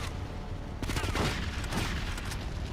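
Gunfire in GTA Liberty City Stories on the PSP comes as a quick burst of rapid shots in the middle, loud and crackling over a steady game backdrop, with no voices.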